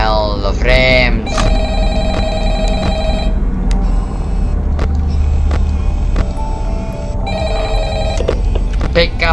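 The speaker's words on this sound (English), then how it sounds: "Pick up the bloody phone." A telephone rings repeatedly inside a Five Nights at Freddy's horror game, steady electronic bell bursts over low ambient rumble, with someone talking loudly and excitedly over the ringing.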